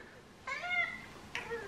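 Two close cat meows, a longer one followed by a short second call, with a quiet background and no talking.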